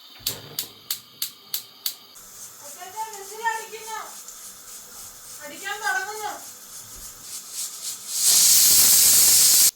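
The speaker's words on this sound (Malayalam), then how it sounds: "അഞ്ചാമത്തെ വിസിൽ ഇതേ വരികയാണ്" A pressure cooker hisses while cooking mutton vindaloo, a loud steady burst of steam building near the end after a run of short clicks and a voice speaking in between.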